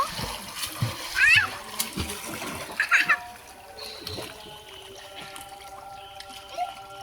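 A child splashes and swims in a village pond, with a couple of bursts of splashing water close by followed by gentler lapping, while people talk throughout.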